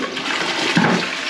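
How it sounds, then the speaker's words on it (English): A toilet flushes in a newly remodeled bathroom, set to about six litres per flush. There is a short, close rush and gurgle of water lasting around a second. "Let's give it a couple more flushes"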